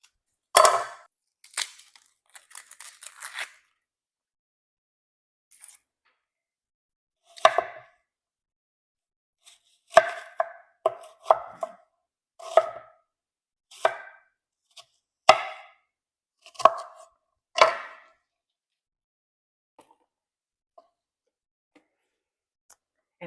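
Sharp knife chops through an onion for salsa on a cutting board, in uneven bursts and single strokes with pauses between, close and crisp with no talking.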